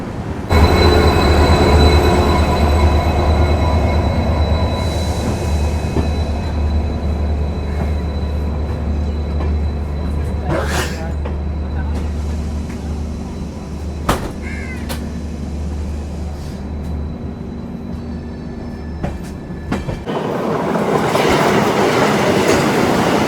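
The Amaravati Express train rumbles along the rails with a steady low roar, occasional wheel squeals and clanks, and a crow calling in the background.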